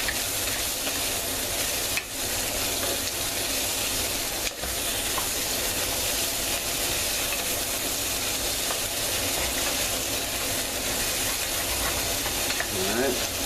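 Onion and other ingredients sizzle steadily in a hot pan while being stirred, a continuous close frying hiss with occasional scrapes, ahead of stinging nettles going into a soup.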